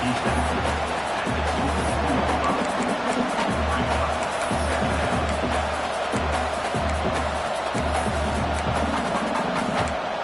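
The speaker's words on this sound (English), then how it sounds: "It's early, but this crowd is fired up. Listen to this noise here." Packed stadium crowd at a UCLA college football game roaring in a dense, continuous wash of noise, with a rhythmic low drumming pulse underneath and voices blended throughout.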